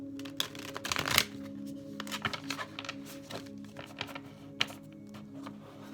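Tarot cards being shuffled by hand: quiet riffling and flicking, with a denser burst of shuffling near the start, then scattered light taps and card slaps, close and soft with no talk.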